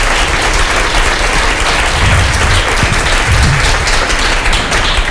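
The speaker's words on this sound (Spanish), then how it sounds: "Un aplauso para los tres." Loud, dense applause from an audience at a literary talk, greeting three writers with sustained clapping for several seconds and no break.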